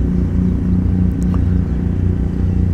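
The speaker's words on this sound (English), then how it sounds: "Got somebody mowing the yard" A lawn mower drones steadily as it cuts the grass at a baseball stadium. Its low, continuous engine hum comes from a distance, with a few faint clicks close by.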